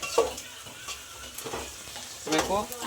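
Onions frying in a pan for biryani, a soft sizzle broken by scraping stirs and a few clinks of a utensil against the pan, close and moderately quiet, with a voice speaking briefly near the end.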